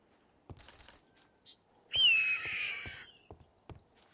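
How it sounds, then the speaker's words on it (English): A modded Minecraft eagle gives one clear descending screech lasting about a second, with scattered footsteps and clicks around it. "Is that an eagle?"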